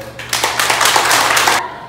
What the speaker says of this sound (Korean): 대화동분들에게 박수 한번 주세요